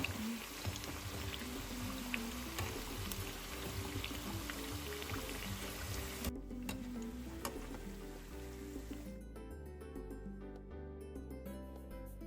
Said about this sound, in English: Scoop up the oil onto the top so the top part can begin to fry too